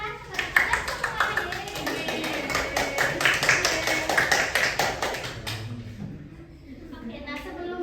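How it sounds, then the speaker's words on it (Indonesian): Classroom applause from a group of students, rapid close hand clapping for about five seconds that then fades out, with some voices and room noise after. "Beri tepuk tangan kepada kalian semua."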